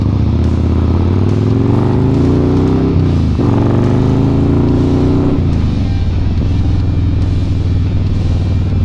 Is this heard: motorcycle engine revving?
yes